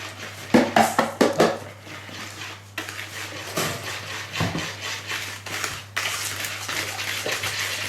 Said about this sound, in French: Alors on mélange bien pour avoir une pâte bien lisse.